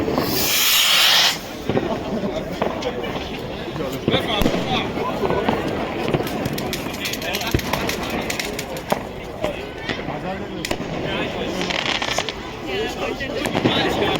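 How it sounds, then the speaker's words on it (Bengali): New Year fireworks and firecrackers going off at a celebration in Heidelberg, Germany: a dense, continuous crackle of bangs and pops, some close and loud and others farther off. Voices talk over the barrage. "এদের সাহস দেখো হাতে ধরে বাজি ফোটাচ্ছে"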